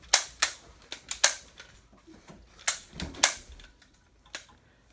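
Sharp, close bangs from a prop gun fired at a person during filming of a film scene, several irregular shots in quick clusters with short decays, no talking.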